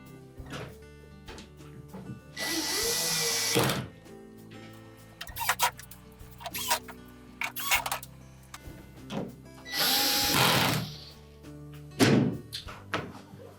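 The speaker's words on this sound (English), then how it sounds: "Then we'll reinstall the retaining screws." Retaining screws being driven into the two sections of a Whirlpool dryer door, with whirring bursts from a power driver separated by sharp knocks and clicks, close and moderately loud.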